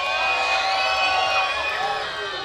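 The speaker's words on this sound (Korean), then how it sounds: "함성도 한번 질러주세요." Crowd at an outdoor youth dance competition in a spring flower festival at Taehwa River National Garden, shouting and cheering in a sustained, loud roar with scattered whoops and voices mixed in.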